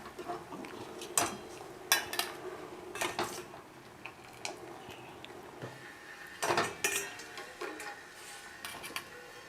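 Boiled banana stem being scooped out of a pot, with faint metal clinks and scrapes of a utensil against the cookware coming in irregular bursts over a quiet kitchen background.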